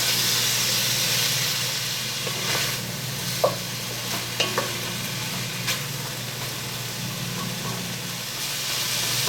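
Onions sweat with pork in a pan, giving a steady hissing sizzle. A few light clicks of stirring sound up close, with no voices.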